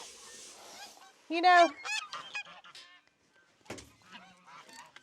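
Geese in a backyard flock honk loudly in a burst of harsh, repeated calls, followed by scattered quieter honks and squawks with someone briefly speaking nearby.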